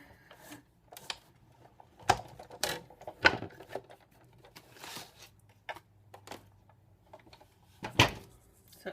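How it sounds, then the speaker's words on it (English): A paper cutting tool slicing cardstock: a series of close, sharp clicks and clacks spread unevenly, with soft sliding and scraping between them. "It cut the cardstock."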